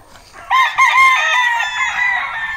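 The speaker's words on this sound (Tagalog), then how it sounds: "Ito daw yung mga panabong." Fighting cocks crowing nearby, a loud strident cock-a-doodle-doo that breaks into a couple of sharp bursts before stretching into a long wavering call, with faint clucking underneath.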